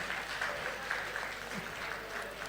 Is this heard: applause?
yes